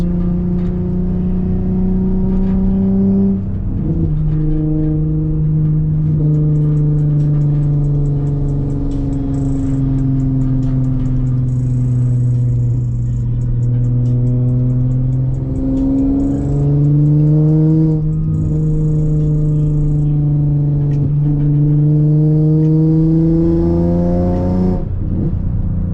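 A car with a custom single-exit exhaust pulls hard along back roads, its loud engine note rising through the gears in several long sweeping pulls with brief drops at each shift, close and dominant throughout.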